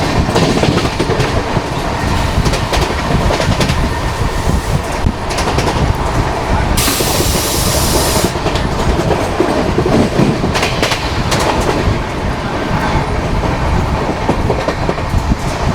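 LTT Mumbai–Bhopal superfast express running at speed on the main line, a loud continuous roar of wheels with rhythmic clickety-clack and brief bursts of hiss passing close by, no voices.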